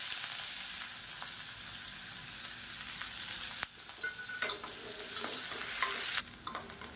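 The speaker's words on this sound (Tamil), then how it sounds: "ஒரு கைப்பிடி அளவுக்கு பொடியாக நறுக்கின வெங்காயம் சேர்த்துக்கலாம்." Chopped onions drop into hot oil with mustard seeds, cumin and curry leaves, sizzling steadily up close, with scraping stirs of a spoon breaking in partway through.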